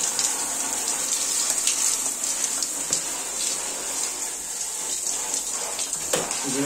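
Steady stream of water pouring over a dirty air conditioner filter during cleaning, a constant close rushing hiss with occasional splatters and light handling knocks throughout.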